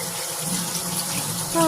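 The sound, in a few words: water running in sink while washing dishes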